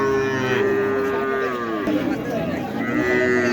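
A Sindhi breed cow at Taherpur cattle market gives a long, loud, drawn-out moo close by, with bustling market noise behind it.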